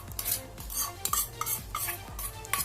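A spoon scrapes and stirs chicken kondattam into cooked Maggi noodles in a pan while village-style cooking. About five or six repeated close strokes come with soft thuds and a faint sizzle, and no talking.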